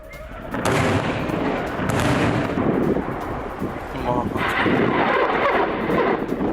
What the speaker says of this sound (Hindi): इजराइल पर एक साथ कई रॉकेट से हमला बोला गया।